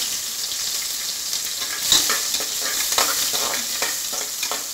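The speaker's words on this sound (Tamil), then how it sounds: "பத்து சின்ன வெங்காயம், இதை வந்து நல்லா வதக்கி விட்டுருக்காங்க" Small onions and a slit green chili sautéing in a pan, a steady close sizzle broken by a few louder scrapes and stirring knocks, with no talking.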